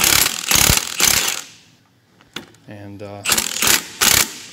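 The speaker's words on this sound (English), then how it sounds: "Now just start tightening that bolt down." Ratchet tightens a bolt on a motorcycle engine during a camshaft teardown, loud clicking in bursts near the mic, with a short pause where a voice speaks briefly.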